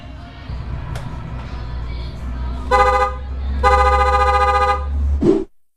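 A car horn with a wiring fault honks twice, one short blast and then a longer held one, loud and close over a low idling engine hum.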